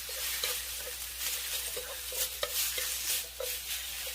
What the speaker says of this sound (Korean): 진간장 한 스푼, 설탕 반 스푼 넣고 이제 볶아주겠습니다